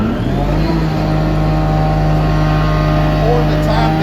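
A Ditch Witch HX75 vacuum excavator's engine runs loud and close while warming up, a steady low mechanical drone with a slight rise in pitch partway through.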